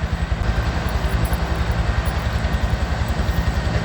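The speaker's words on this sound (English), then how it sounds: "And the helicopter's right there." A helicopter flies low overhead near a wildfire, its loud, rapid rotor chop pulsing steadily and very close, with the engine roar filling the scene.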